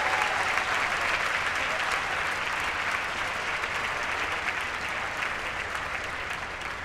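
A crowd at a dual enrollment graduates' recognition ceremony claps continuously, a loud, even roar of many hands that holds steady throughout.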